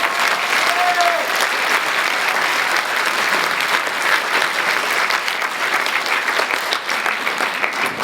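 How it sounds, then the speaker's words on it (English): An audience at a film premiere Q&A breaks into applause, steady dense clapping that carries on loudly throughout without a break. "Let's give him a round of applause."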